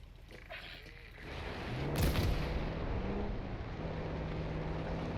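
Gunfire in a Call of Duty Black Ops 6 campaign battle, heavy booming shots and a sharp burst near the middle over a dense rumbling war backdrop, moderately distant.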